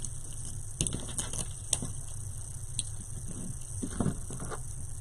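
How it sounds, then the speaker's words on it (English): Light rain patters irregularly on a surface, soft scattered taps over a faint steady background hum. "It's raining."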